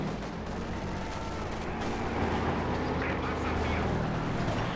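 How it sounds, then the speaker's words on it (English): Artillery bombardment in the Company of Heroes 2 strategy game, a dense, continuous wash of rumbling blasts and booming impacts that runs unbroken through the clip, with a voice speaking over it. "Quick bombardment here."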